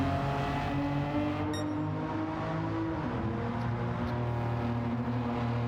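Race cars in Gran Turismo 7 during an online league race, engines droning steadily at high revs with shifting pitch as cars brake and accelerate, continuous and fairly loud with no talking.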